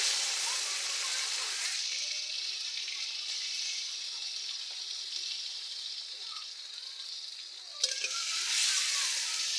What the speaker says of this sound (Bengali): কেটে রাখা টমেটোগুলো দিয়ে দিচ্ছি তেলের উপর